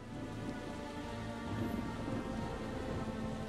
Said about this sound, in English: Rain is bullshit, man. We can't see a damn thing.